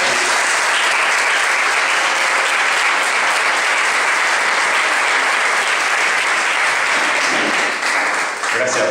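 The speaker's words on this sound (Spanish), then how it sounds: "un aplauso muy especial para doña María Sánchez" Loud, dense applause from an audience honoring María Sánchez, sustained and even throughout, with faint voices at the end.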